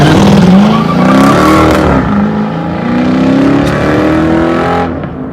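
A loud Dodge Charger engine revs hard and close, its pitch climbing and falling in repeated surges that fill the whole stretch.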